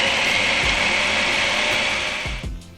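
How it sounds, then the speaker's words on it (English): Blender whirring steadily as it grinds carrots and garlic down to fine bits, a loud continuous motor drone that eases off near the end. "we're gonna just grind it up till it's really fine"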